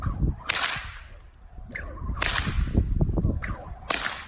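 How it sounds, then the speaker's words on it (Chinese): Three sharp whip cracks ring out at roughly even intervals, loud and close, with a rustle of low background noise between them. "要用鞭子打断我手中的树枝"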